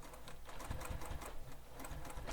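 Rapid, rattling stitch bursts from a sewing machine back stitching along the bottom of a crossbody bag, in short repeated runs with brief pauses, close up.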